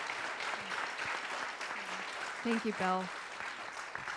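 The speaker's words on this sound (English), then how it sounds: "we should all give Mr. Chapin a round of applause for putting this together" Applause from a concert audience for the organiser of a jazz session, a steady wash of clapping that carries on under brief spoken thanks from a man.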